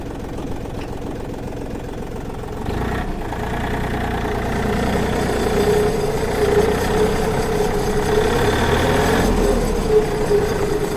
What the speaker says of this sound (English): Go ahead and start it up here.